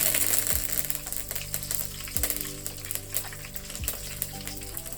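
A handful of curry leaves frying in hot oil with cumin, mustard seeds and dried red chillies, a steady loud sizzle with sharp crackles and a few spoon scrapes against the pan.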